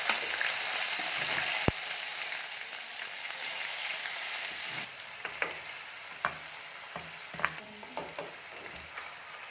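Cumin seeds crackling in hot oil with spice masala added for stuffed bitter gourd give a steady close sizzle and hiss, with occasional sharp clinks and scrapes of a spoon stirring in the pan.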